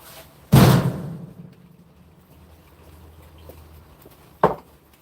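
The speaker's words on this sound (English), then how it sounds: "Close the door." A door swings shut with a loud thud near the start, followed by a second, softer knock a few seconds later over a quiet room background.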